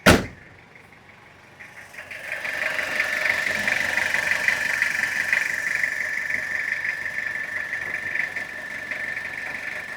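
A Toyota Qualis engine idles steadily and fairly close after a sharp start, its even mid-pitched hum running on alone without anyone talking.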